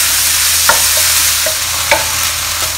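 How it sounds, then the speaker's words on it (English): Pork pieces sizzle steadily in a non-stick pan, with a spatula scraping and stirring them in a few distinct strokes over the continuous frying hiss. "Stir them and fry them until they are a little bit brown."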